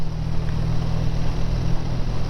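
A BSA A10 650 motorcycle engine pulls steadily in top gear at about 35 mph, a low, even drone with wind rush, loud and continuous without talk.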